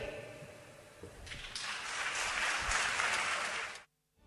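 A crowd applauding steadily, building over a second or two and then stopping abruptly into silence.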